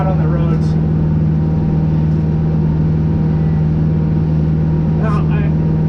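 A backhoe fitted with a snow plow rumbles steadily in second gear, a loud constant engine drone with a strong low hum throughout. Faint voice traces come through briefly.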